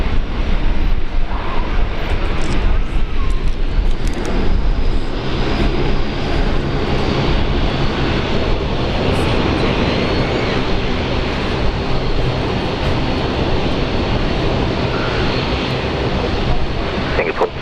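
A Boeing 787 airliner takes off at Brisbane Airport with a loud, continuous engine roar that holds steady throughout.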